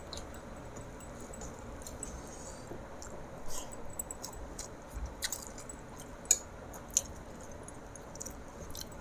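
Someone eats kochu and ol curry with faint, soft, wet chewing and occasional squishy bites over a quiet room background.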